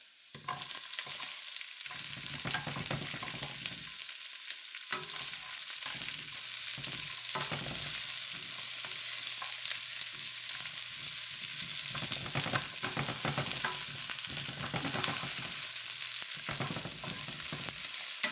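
Onion sizzles in a hot pan with garlic and ginger over low heat, a steady close crackle and hiss broken by stirring scrapes, with no talking.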